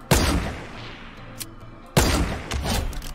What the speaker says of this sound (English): shoot another 50 rounds